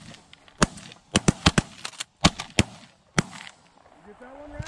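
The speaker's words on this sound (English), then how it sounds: "I was shooting at that one too." Shotgun blasts ring out during a goose hunt, about ten sharp, loud reports in quick irregular clusters, some nearly overlapping as several hunters fire, with faint goose calls and outdoor ambience between shots.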